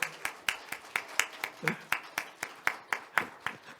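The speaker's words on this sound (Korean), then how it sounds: "박수로 우리 격려해 주셨으면 좋겠어요" A church congregation claps for Father's Day in a steady, fairly quick rhythm of sharp hand claps at moderate distance, with faint voices murmuring in the room.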